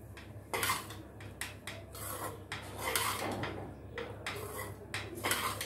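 Poha mixed with peanuts and lemon juice in a pan, repeated dry rasping scrapes of a spoon pushing the flakes around, quiet and close, in uneven strokes with no voices.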